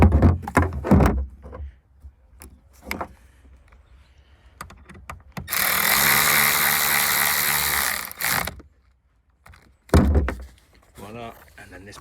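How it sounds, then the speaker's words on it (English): Metallic ratcheting and clicking as a bolt is worked back into the metal bracket in the boot of a Skoda Octavia Mk3 estate, short close mechanical bursts with a longer continuous ratchet run in the middle. "Just going to put the bolt back in"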